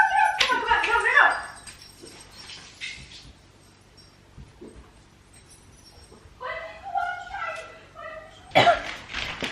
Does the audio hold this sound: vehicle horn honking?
no